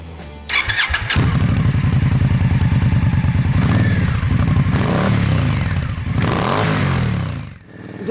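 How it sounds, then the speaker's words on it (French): An Indian Scout Sixty V-twin motorcycle engine rumbles loud and close, revving steadily with a deep pulsing throb that swells and eases over several seconds, with no talk. "Donc le moteur il prend bien ses tours, il a une belle allonge, il est aussi très souple"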